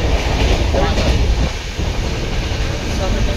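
Passenger train running on rails near Dhanbad station, a loud steady rumble with a low roar and faint rhythmic clatter from inside the carriage, continuous and close, with some voices in the background.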